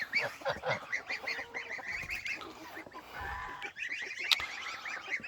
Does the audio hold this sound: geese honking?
yes